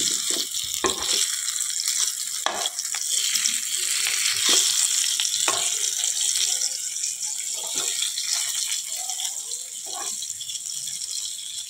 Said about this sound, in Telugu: ఇది కూడా వేగుతుందండి. ఇంకొంచెం వేగాలి.